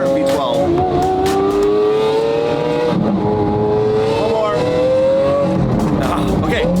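A Lamborghini 6.5 liter V12 with straight pipes revs loudly and nearby, its howling exhaust note rising and falling through several climbs in pitch.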